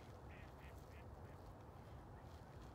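Ducks quack on open water near an ice-fishing spot in Manitoba, faint and distant, with a few short calls over steady wind-like noise.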